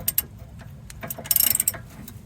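A socket on a star bit tightens a rear sway bar end link on a Mazda Protege 5, producing a quick run of close, sharp mechanical clicks over a short stretch, with no voices.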